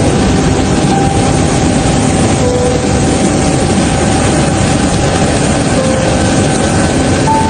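A loud, steady aircraft engine roar carries the Vice President and officials departing Abuja for London. It is a continuous dense drone with a faint tonal whine and no breaks or talking.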